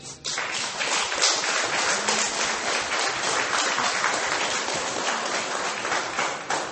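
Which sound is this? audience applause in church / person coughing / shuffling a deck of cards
audience applause in church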